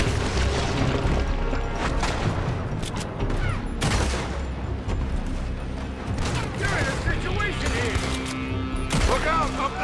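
Sustained gunfire in the open-world western game Red Dead Redemption 2, with dense bursts of shots and booms running throughout under a steady busy mix, mid-distance and loud, while voices talk over it.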